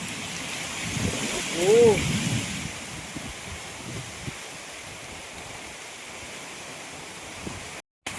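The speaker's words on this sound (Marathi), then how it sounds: "हा बघा किती मोठा पडतोय पाऊस आणि सोबत वारा सुद्धा" Heavy unseasonal rain and gusting wind in the Konkan countryside make a broad steady roar throughout, with a brief voice over the downpour early on and a short dropout near the end.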